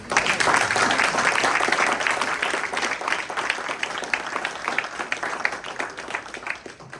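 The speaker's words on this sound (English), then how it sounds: "how about a round of applause?" An audience at a Coastal Georgia Audubon speaker-series talk applauds the speaker, steady dense clapping from a roomful of people that holds for several seconds before slowly tapering off.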